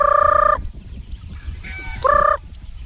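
Gamefowl hens clucking and calling in loud, tonal bursts, one at the start and another near the end, with softer scratchy yard sounds between.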